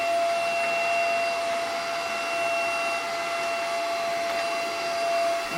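A Simplicity S67 cordless vacuum cleaner runs with a steady high-pitched motor whine and airy hiss, close and constant throughout with no talk.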